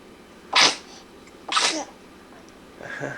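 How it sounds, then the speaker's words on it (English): Three sneezes from a four-month-old baby, short and high-pitched, spaced about a second apart, the last one softer and more of a snuffle. "Even the sneezes."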